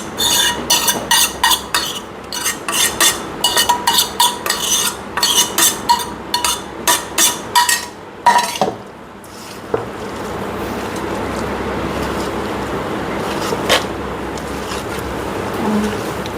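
Tamarind pulihora rice being stirred in a pot, with a quick run of sharp scraping and clinking strokes of a utensil in the first half, followed by quieter, steady mixing noise and an occasional clink.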